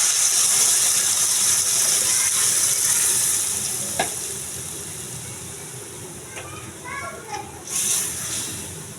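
Fried onion and garlic tempering poured into lentil dal with potatoes, giving a loud burst of hiss and sizzle that slowly fades, followed by a few clinks and stirring sounds near the end.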